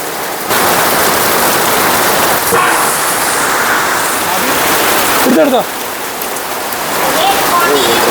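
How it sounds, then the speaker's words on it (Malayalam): Steady rain pours down in a loud, even hiss, while a person speaks briefly beneath it. "എന്തുട്ടാ മഴ അല്ലേ?"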